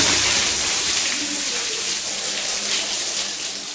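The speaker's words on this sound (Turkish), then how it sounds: "Şu an peteğin içi su doluyor." Water rushing into a home heating radiator during a central heating system flush, a steady loud gushing hiss that fills the whole clip, slightly easing toward the end.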